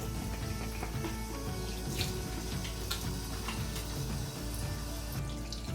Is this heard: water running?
yes